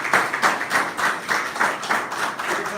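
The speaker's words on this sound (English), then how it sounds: "if you have to clap, you can clap." An audience at a peace awareness campaign launch claps in a steady, rhythmic beat of regular strokes, moderately loud and sustained throughout, with no talking.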